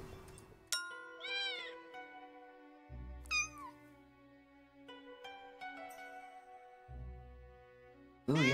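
A cat pet in the Onmyoji mobile game meows a few times amid chiming, pinging interface effects and soft game music, fairly quiet.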